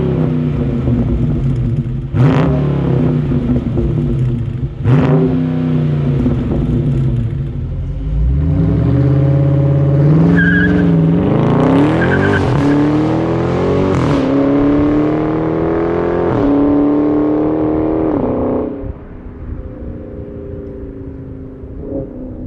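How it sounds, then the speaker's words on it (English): A Dodge Charger Scat Pack with stock exhaust revving close by, a loud deep burble that rises and falls through several throttle blips, then one long climbing rev before settling back to a rumbling idle. "But as you guys heard, stock exhaust sounds absolutely fantastic."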